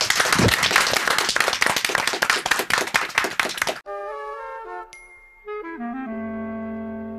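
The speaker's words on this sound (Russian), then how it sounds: "Аплодисменты." Applause from an audience at a Russian event, loud, dense clapping for several seconds that stops abruptly and gives way to chiming, ringing bell-like tones.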